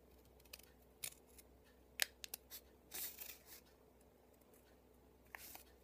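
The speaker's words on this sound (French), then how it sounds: "Donc ensuite vous prenez votre paire de ciseaux et vous allez donc couper, mais pas jusqu'au point." A pair of scissors cutting paper for a simple craft embellishment gives a handful of close, crisp snips in short clusters, stopping and starting, quiet with no talk.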